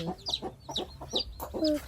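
A hen with her chicks clucks repeatedly in a quick, steady series of short clucks, close by and moderately loud, with a few higher chirps near the end.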